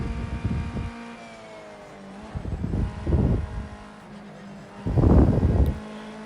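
A race car on a qualifying lap at Brands Hatch in Project Cars 2 rises and falls in bursts of engine revving, with the loudest surge near the end and a tonal hum beneath.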